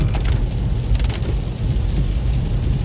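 Steady rain falls across a city street beside a theater parking lot, a dense even hiss with low rumble throughout and no voices.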